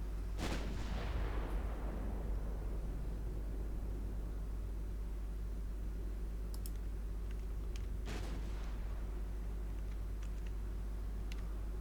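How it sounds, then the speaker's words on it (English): Naval guns fire during a night battle in Ultimate Admiral Dreadnoughts, with a booming shot near the start and a second fainter report later over a steady low rumble, with small clicks in between. "So that's the DD we are firing at."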